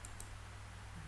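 A computer mouse gives two quick faint clicks in rapid succession against a quiet room hum.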